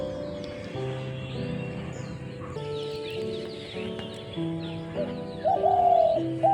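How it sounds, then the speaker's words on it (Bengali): Birds, including a dove, call in a rooftop garden on a rainy-season day; a few soft coos and a brighter call near the end sit over a steady tonal musical background. "তার সাথে পাখির ডাক শুনতে পাচ্ছেন"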